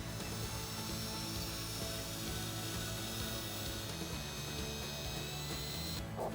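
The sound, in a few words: power drill drilling pilot hole through wall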